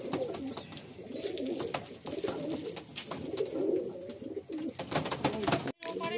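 Madrasi and Andhra pigeons in a loft coo continuously in low, rolling, overlapping calls, near and fairly soft, with sharp clicks and brief rustling scattered through.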